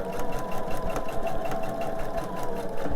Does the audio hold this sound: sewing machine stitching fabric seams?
yes